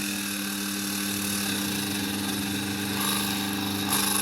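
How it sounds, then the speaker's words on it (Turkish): A steady electric glass grinder whines with a continuous motor hum, the tone shifting slightly near the end as it sands the wet edge of a Tiffany stained-glass piece. "bu şekilde hareket ettirerek zımparalama işlemi yapıyorum"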